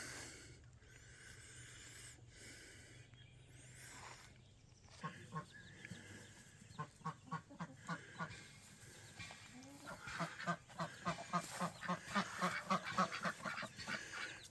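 Pekin ducks on a homestead near a chicken coop quack in rapid, repeated bursts. The calls start sparse and grow into a busy, rhythmic chorus over a quiet outdoor background.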